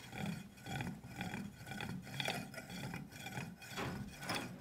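A hand drill bores into a shell to make a necklace, giving repeated rasping, scraping strokes in a steady back-and-forth rhythm, close and fairly quiet with no talking.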